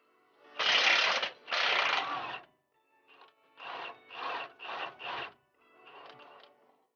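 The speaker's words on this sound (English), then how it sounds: "Now I've got my impact on this side with a 21." An impact wrench with a 21 mm socket spins a nut off a control arm on a 2004–2008 Ford F-150, sounding as several loud rasping bursts: two long ones, then a series of shorter, evenly spaced rattling pulses, close by and alone.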